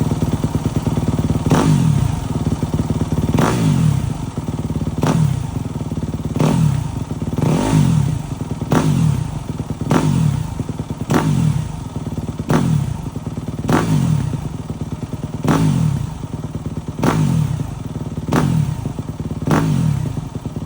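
A Yamaha YZ250FX dirt bike engine that puffs blue smoke and burns oil is revved over and over, climbing and then dropping back on deceleration in a steady, loud, close cycle of about a dozen blips with no talk.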